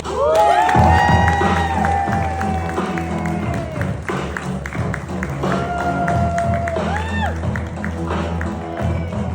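Crowd in a theatre applauding and cheering for a performer named Oscar Gomez, a steady wash of clapping with whoops and shouts rising and falling throughout.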